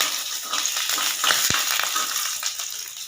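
Dried red chillies, ginger and garlic fry in a pan with a steady, bright sizzle and crackle, with one brief low thump near the middle and no voices.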